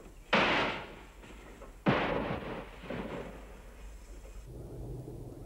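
Military mortar fire during jungle warfare operations: two sharp, loud booming blasts about a second and a half apart, each trailing off in a rumbling echo, followed by a lower outdoor rumble.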